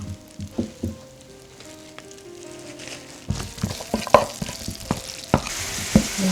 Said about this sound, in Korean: 저는 준비해 놓은 이 편마늘을 볶을 건데요